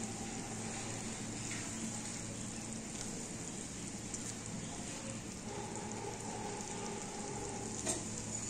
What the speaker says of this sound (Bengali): ভেজে রাখা পাবদা মাছগুলো এক এক করে দিয়ে দিচ্ছি।